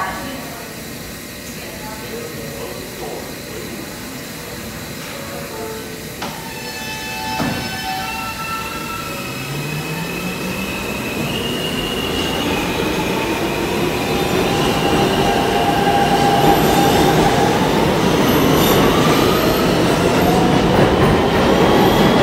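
A New York City Siemens R160B subway train on the R line rumbles and clatters steadily louder as it moves through Roosevelt Avenue station, wheels squealing faintly amid rising low roar and rhythmic rail clicks.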